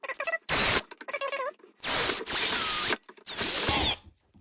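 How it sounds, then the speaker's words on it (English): Power drill fitted with a 1/4 inch bit, boring in three loud whirring bursts separated by short pauses, each with a rising motor whine, during work on a model airplane stand. "So now that you've got your 1/4 inch drill bit, you can start drilling again"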